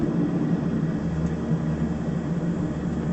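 Inside a King Air 350 turboprop taxiing, the engines give a steady, heavy broadband drone with a low tonal hum, continuous and even throughout.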